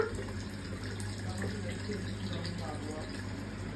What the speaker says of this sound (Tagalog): mahal na pupuno yata ang palanggana